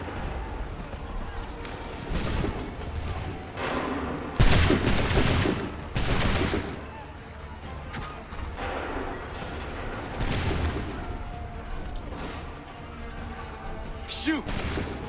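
In the video game Assassin's Creed III, a battle scene carries bursts of musket volley gunfire: several heavy ragged blasts with booming reports over a busy noisy background, with voices shouting orders amid the firing.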